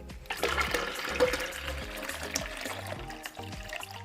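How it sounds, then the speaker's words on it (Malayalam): Homemade grape juice being poured into a jug, a steady, soft liquid splashing and trickling stream lasting several seconds, close and fairly quiet, with no talking. "അങ്ങനെ മുന്തിരി വെള്ളം എല്ലാം ഈ ഒരു ജഗ്ഗിലേക്ക് ഇതേപോലെ ഒഴിച്ച് മാറ്റി"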